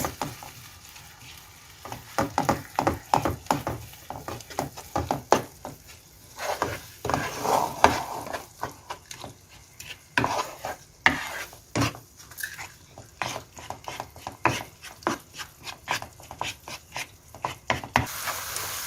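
Mirza Ghasemi, an Iranian dish, frying in a pan, a steady sizzle broken by repeated scraping and stirring strokes of a utensil against the pan, close and busy, with no talking.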